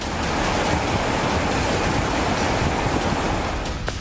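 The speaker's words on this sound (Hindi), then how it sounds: "प्रचंड वेग से बह रहा पानी बांध को तोड़ चुका है।" Sharda river floodwaters surging through a broken dam, a loud, steady broadband roar of rushing water that fills the whole stretch without pause, with no voices over it.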